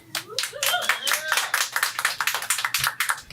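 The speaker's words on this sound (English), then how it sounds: "All the smart people clap" A stand-up comedy club audience claps in a quick burst of sharp, dense hand claps that runs the whole moment, with some voices and whoops mixed in.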